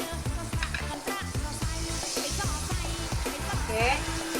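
Salmon fries in oil in a pan with a steady, loud sizzle and crackle that runs on without a break, a slow stir now and then, and a voice faintly underneath.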